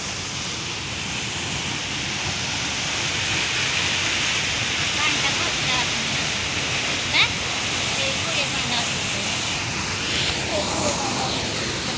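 Steady rushing water of a waterfall deep in a forest, a continuous broadband roar filling the scene with faint voices and small sounds scattered over it.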